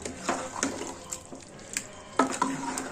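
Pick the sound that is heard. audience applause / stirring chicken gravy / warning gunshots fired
stirring chicken gravy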